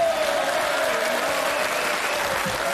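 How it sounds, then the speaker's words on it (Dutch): A TV studio audience breaks into applause, a dense, steady wash of clapping that holds at an even level throughout, with a faint tonal hum running beneath it. "Dat was een begin van een applaus,"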